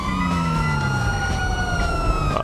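A police siren wails loud and close during a car chase in a video game, its rising and falling tone running steadily through the whole stretch over a low engine rumble.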